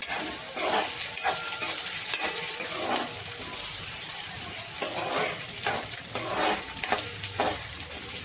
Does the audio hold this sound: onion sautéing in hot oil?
yes